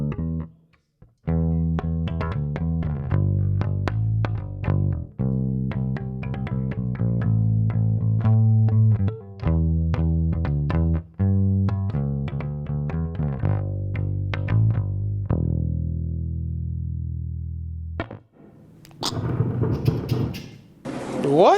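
Electric bass guitar played through an Ampeg Rocket bass amp and recorded via its DI output, delivering a steady run of clear, close, sustained notes with a brief sliding pause before a short ending noise.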